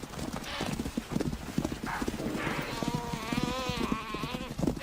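Hoofbeats drum as a herd of topi antelope runs on open ground at night, a fast, dense clatter of many hooves. Animal cries and narration-like voice are mixed in over the noise.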